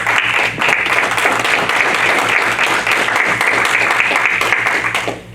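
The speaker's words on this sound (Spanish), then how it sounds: "Denle un aplauso al Señor" A loud, sustained burst of applause from a church congregation praising the Lord, dense clapping holding steady for several seconds before trailing off.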